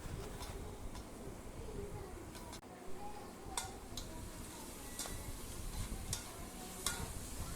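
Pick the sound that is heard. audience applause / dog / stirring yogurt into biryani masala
stirring yogurt into biryani masala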